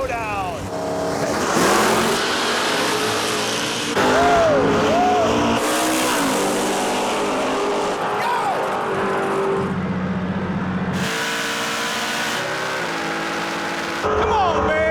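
Big block Chevrolet Camaro race cars with 565-cubic-inch engines roar loudly through a drag race event, engine revs rising and shifting across the whole stretch, with announcer-style talk and crowd noise layered over the din.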